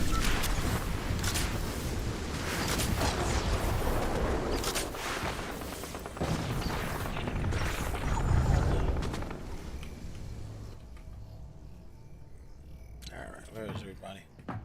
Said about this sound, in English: There's some shooting going on over here